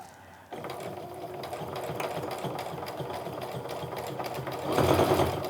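A sewing machine stitches slowly through bulky layers of canvas and cork, a steady close mechanical whir with rapid needle clatter that speeds up near the end.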